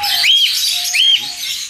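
English budgerigars in a bird shop give two bright, rising chirps about half a second apart, close and loud, over a softer background of other bird calls.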